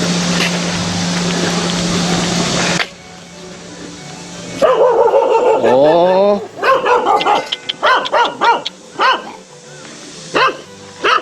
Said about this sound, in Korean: 강아지들이 짖는 관계로 다소 어, 소음은 있습니다